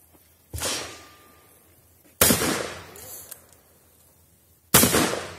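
Revolver shots at an outdoor shooting range: three sharp, loud cracks spaced about two seconds apart, each followed by a short echoing decay, with a faint click between the second and third.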